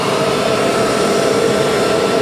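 A die-cutting machine for making decals runs with a loud, constant whirring roar that stays even from start to end, with no pauses or voices.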